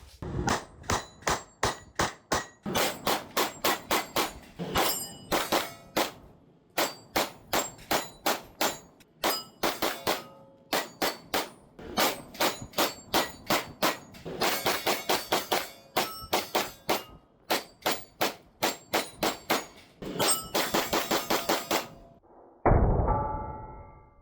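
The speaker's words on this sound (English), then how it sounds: "we're gonna warm these guns up on a cold day at the range here" Rapid strings of sharp Staccato P HD pistol shots crack out at an outdoor range on a cold day, dozens of loud close reports in quick bursts with brief pauses between strings.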